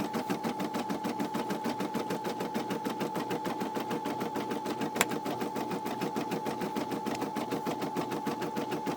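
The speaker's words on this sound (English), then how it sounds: "This one's still going." A Brother SE600 embroidery machine stitching a felt design runs in a fast, even mechanical rhythm of needle strokes with a steady whirring hum, close and continuous throughout, with no talk.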